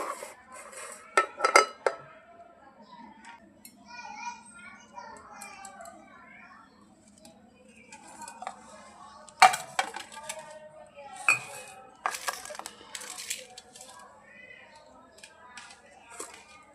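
Rice is served onto plates at home, with repeated close clinks and clatters of dishes, a spoon and cutlery scattered through the stretch, while voices talk intermittently.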